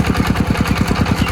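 Brick-making clay extruder running, a steady fast chugging motor pulse with a rough mechanical drone, close and constant.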